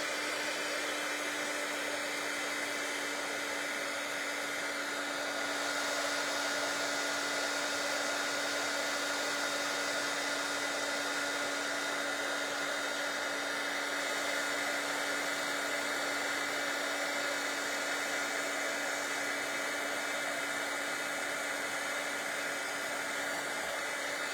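A heat embossing tool blows with a steady, loud whooshing hum that runs without a break, a constant airy roar with a faint high whine and no talking.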